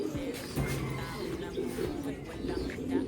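Racing pigeons coo softly and repeatedly in a loft, low throaty calls overlapping at close range with faint background murmur.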